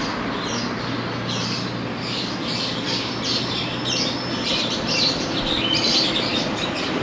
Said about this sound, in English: It's a pet shop, that's why they have so many birds.